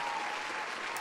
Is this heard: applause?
yes